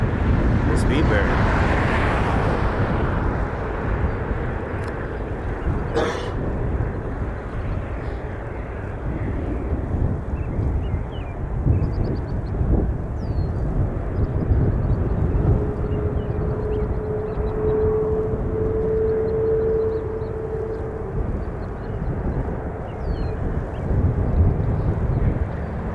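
A British Airways Boeing 787-9 arriving from Vancouver rumbles in on approach to touch down on runway 5 at Toronto Pearson, a broad, steady jet roar with wind buffeting the microphone and a person talking over it.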